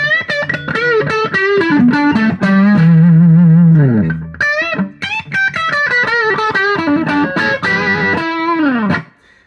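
Electric guitar through an overdrive pedal with a thick, gritty tone, playing a loud, sustained lead phrase with bends and held notes, no voices.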